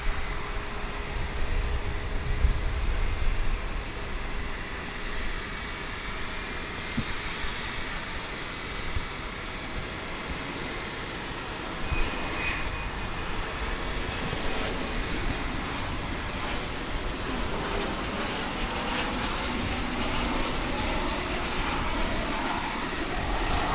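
An American Airlines jet takes off from runway 18 left at DFW International Airport, a steady loud roar of jet engines rising and swelling throughout with a faint whine, no voices.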